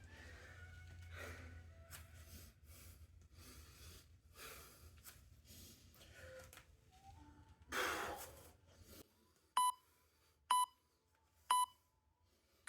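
An interval timer app on a phone gives three short, sharp beeps near the end, evenly spaced and loud. Before them come quiet breathing and rustling.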